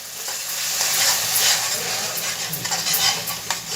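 Tomato puree hits hot oil in a pan of frying chana dal masala, setting off a loud, close sizzle with scraping stirs and light utensil clinks that continues throughout.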